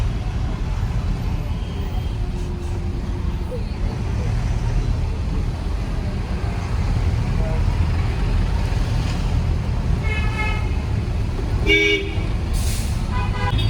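Heavy night traffic in Bangalore rumbles in a low, steady drone of engines, with distant honks breaking through. A louder series of car horn toots comes near the end.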